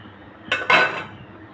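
A spoon stirs dal cooked with sour green mango in a metal pot, making two quick metallic scrapes and clinks up close against a quiet background.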